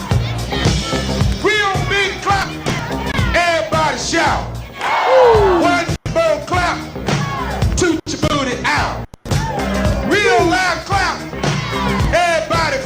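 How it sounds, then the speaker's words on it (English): A crowd at a Tenant Farmers Union gathering claps and shouts in bursts of whoops and yells over loud, continuous music with singing voices. "Real big clap. Everybody shout."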